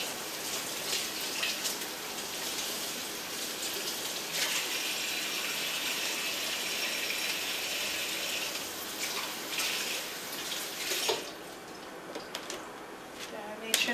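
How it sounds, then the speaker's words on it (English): Kitchen tap water running over food to soften it, a steady gushing stream that continues for most of the stretch, then thins out near the end with a few small clatters. "I'm going to run it under the water, so it's going to soften it and it's going to start disintegrating."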